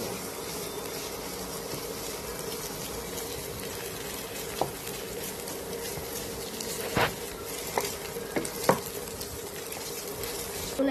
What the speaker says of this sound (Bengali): ডিমটা এখন নাড়াচাড়া করে নেব, স্ক্রাম্বল স্ক্রাম্বল করে।